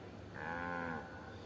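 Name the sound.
cows mooing in Lego The Incredibles video game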